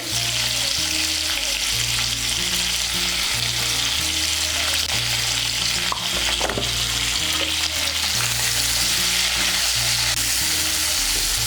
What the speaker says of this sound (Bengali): এই তেলের মধ্যে পটলগুলো ভেজে নেব।